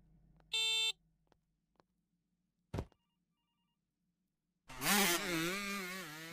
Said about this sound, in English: now the phone's ringing